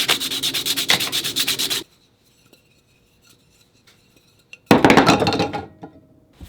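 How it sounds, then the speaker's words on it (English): A wooden spinning top rubbed briskly against denim jeans to polish it, giving close, rhythmic scratchy strokes in two bursts separated by a quiet pause. "I just rubbed it on my jeans. Makes it all nice and shiny."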